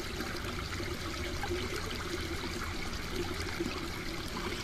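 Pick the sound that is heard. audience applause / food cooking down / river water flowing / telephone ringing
river water flowing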